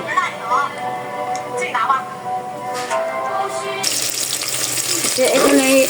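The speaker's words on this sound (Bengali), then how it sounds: "এখানে আমি একটু লাউটা বাগার দিয়ে নিব।" Bottle gourd tempered with garlic in hot oil for a lentil dish, bursting into a loud, steady sizzle partway through after quieter kitchen sounds and a voice talking.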